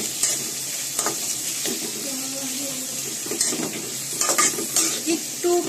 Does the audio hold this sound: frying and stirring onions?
yes